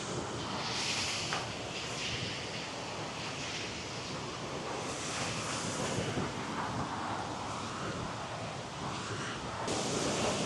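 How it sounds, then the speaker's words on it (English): Roaring rush of the Kravica waterfall in Bosnia, a dense, steady wash of falling water heard close, with some wind buffeting on the microphone. "that's been the waterfall, my people"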